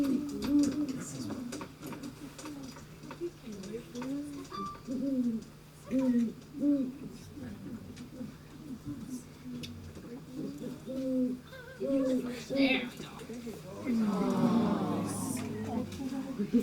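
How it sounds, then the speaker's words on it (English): An owl named Fonzie hoots repeatedly at a bird festival in Sax-Zim Bog, a steady series of low soft hoots close by, with people talking over and between the calls. "Fonzie loves to hoot."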